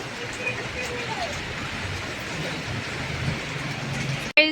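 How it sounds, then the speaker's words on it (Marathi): Heavy rain pours down in Munnar, Kerala, outside a hotel, making a steady, dense hiss that stays even throughout with no breaks, ending in a brief sharp knock. "खूप जोराचा पाऊस इथे चालू झालेला आहे, खूप जास्त जोराचा"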